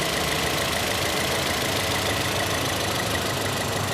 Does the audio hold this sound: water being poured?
no